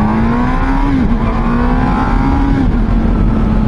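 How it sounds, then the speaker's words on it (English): A Honda CB1000R motorcycle accelerates on the road with a loud, steady engine drone and a rising pitch, heard up close from the rider's position over constant wind rush. "Okay, let's accelerate."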